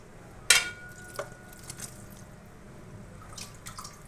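Meat broth is sprinkled over a pot of stuffed eggplant, peppers and zucchini, giving a few faint splashes and drips, one sharper spatter near the start and softer patters after it, with no talk.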